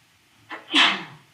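A single human sneeze, a short sharp intake followed by a loud, close burst of breath, heard alone in a quiet room.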